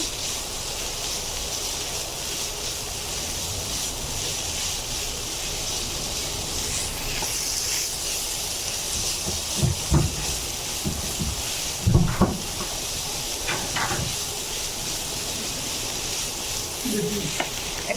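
Chopped papaya frying in a pan with oil, a steady close sizzle that runs throughout, broken by a few brief scraping stirs and clinks of a utensil against the pan.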